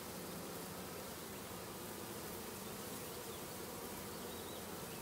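Honey bees pour out of a bait hive in a dense, steady buzzing hum that fills the whole stretch evenly, close and continuous, with no voices.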